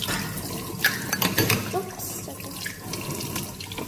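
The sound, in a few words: tap water washing science kit parts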